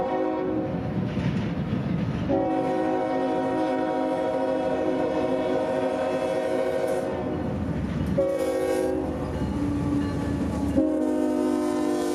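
A southbound freight train rolls past on the main line near Cordele, Georgia, with a loud, steady rumble and clatter while its horn blasts in several long sustained chords, close and continuous with no talking.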